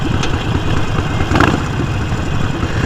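A motorcycle engine rumbles steadily and loudly up close, with wind rushing over it throughout.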